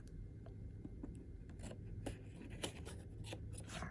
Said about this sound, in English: So let's go ahead and use our X-Acto knife here.